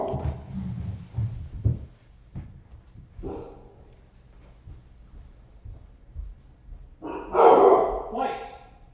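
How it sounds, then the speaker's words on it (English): A dog barks a few times in short bursts, loudest near the end, after a voice speaks quietly at the start. "Sorry about my dog barking."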